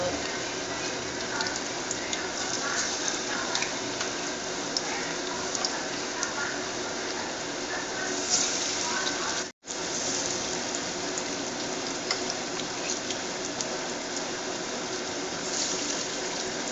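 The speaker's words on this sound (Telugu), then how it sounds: "ఈ విధంగా సరిపడా ఆయిల్లో ఫ్రై చేసుకుంటారు అన్నమాట ఫ్రెండ్స్ చికెన్ జాయింట్ని" Chicken wing joints deep frying in oil give a steady, dense, loud sizzle that fills the whole stretch, broken only by one brief dropout.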